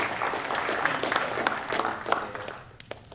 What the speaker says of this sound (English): why don't we give another round of applause to Morrison Foerster for their generosity in hosting